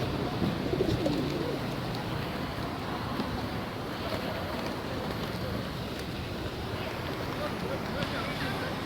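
Wild pigeons lined up on stairs coo softly amid a steady, noisy outdoor wash, the low burbling calls blending into constant background hiss.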